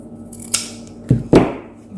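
Scissors snip through sewing fabric close to the stitched seams, giving three sharp cuts, the last two heavier and close together, near and fairly loud with no talk.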